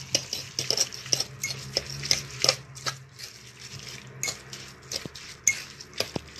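A spoon knocks and scrapes against a pot while fish pilau with coconut milk is mixed, giving irregular sharp clinks and taps over about six seconds, close by, with no talking.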